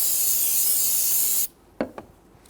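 Solvent sprayed onto the top of the brake fluid reservoir on a 2007–2014 Cadillac Escalade, a close, steady aerosol hiss lasting about a second and a half, followed by a couple of short rubbing scuffs.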